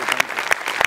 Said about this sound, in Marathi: एकदा नमा आणि प्रसादसाठी जोरदार टाळ्या